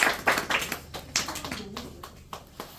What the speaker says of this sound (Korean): 또 환영의 박수 하겠습니다